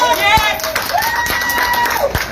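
Crowd at a police officers' protest over unpaid wages cheers as officials and the federation team arrive, a loud steady roar with scattered whistles and shouts running throughout the short stretch.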